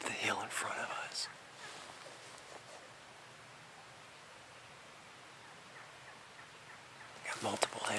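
Wild turkey gobbler in mountain woods on a spring hunt, distant gobbles at the start and end over soft forest hiss, with a person whispering nearby.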